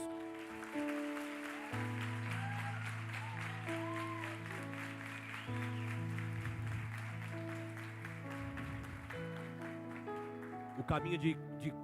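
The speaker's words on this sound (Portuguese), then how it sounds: "Eu gostaria que vocês aplaudissem a Jesus." A church congregation claps along over sustained keyboard chords in a worship service, the hand claps steady and fairly even beneath the music, with a brief louder burst near the end.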